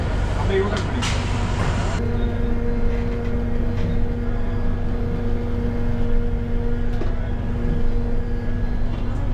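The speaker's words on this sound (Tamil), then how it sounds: "அடுத்ததாக பஸ் நிற்கிறது பிஎஸ்ஆர் மால் அதாவது துறப்பாக்கம் பஸ் ஸ்டாப்புங்க" A steady low motor and road rumble inside an electric AC bus, with a hum and a brief clatter early on as it slows for a bus stop in Thoraipakkam.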